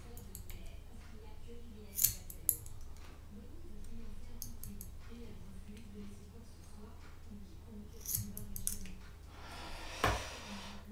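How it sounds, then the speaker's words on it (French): A nail clipper snips excess silica wick with two sharp clicks close to the mic, then a couple more small cuts later, among soft handling noises and quiet talk. "Donc je vais couper ma silice que j'ai en trop. Avec un coupe-ongle qui coupe bien"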